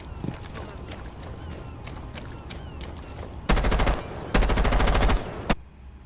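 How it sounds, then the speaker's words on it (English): Rainbow Six Siege gameplay: scattered single shots and footstep-like taps give way to two loud bursts of rapid automatic gunfire spraying a spot, then a final shot and a quick fade. "what you're witnessing right there is me pre-firing an area because I know there's a high chance that somebody's gonna actually be sitting there"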